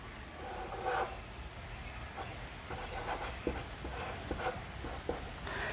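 Pen or pencil scratching across paper while someone writes numbers in the old Kaithi script, a run of short, soft strokes with small pauses in between, close and quiet.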